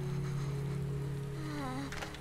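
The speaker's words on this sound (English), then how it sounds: "How is it raining inside?" Rain falling indoors in the video game Resident Evil 2, a steady soft patter over a constant low hum, with a tonal whine sliding downward near the end.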